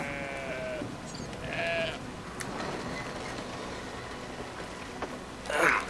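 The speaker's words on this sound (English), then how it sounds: "Just a random ass herd of sheep." A herd of sheep bleats in the video game Brothers: a Tale of Two Sons, with several distinct bleats over a steady ambient bed, the loudest arriving near the end.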